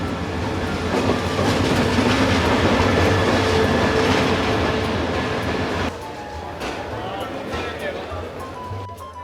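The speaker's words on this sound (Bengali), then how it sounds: "ট্রেন চলে আসছে ট্রেনের আলো দেখা যাচ্ছে" A train rumbles into Sylhet railway station loudly with rhythmic rail clatter, then the noise drops and eases as it slows, with voices faintly audible in the background.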